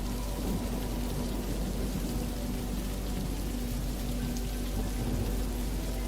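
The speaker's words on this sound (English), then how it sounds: "The gentle rain continues its soft patter against the windows" Steady rain patters against windows as a dense, even hiss of drops that holds unchanged throughout, with no voices over it.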